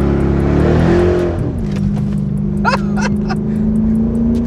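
A 350 hp Corvette drifting, its engine droning loud and close, revs dipping then settling into a steady high drone with faint tyre chirps on top.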